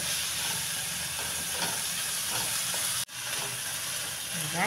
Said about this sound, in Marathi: आता ही एक 5 मिनटं परतत राहायचं आहे